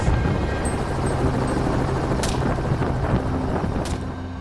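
Steady, loud rotor and engine roar of a helicopter during a wild boar hunt fills the whole stretch, with a constant droning hum and a couple of brief gusty bursts.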